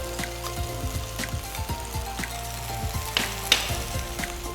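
Water spinach and tomato stir-fry in a pan with a soft, steady sizzle and crackle, punctuated by repeated clinks and scrapes of stirring, quiet and close with no talking.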